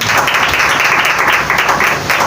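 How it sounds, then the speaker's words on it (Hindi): A church congregation claps loudly and steadily at a Pentecost service, a dense, continuous wash of hands filling the space without a break. "यीशु नाम के जलाल के लिए जोरदार ताली।"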